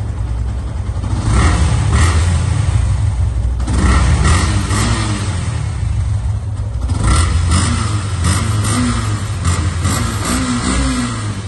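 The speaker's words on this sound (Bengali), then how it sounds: "আমি এত জোরে এই প্রথম পিক আপ দিলাম দেখানোর জন্য।" A Yamaha FZS V2 motorcycle engine revs hard and loud throughout, a continuous throaty roar rising and surging close by.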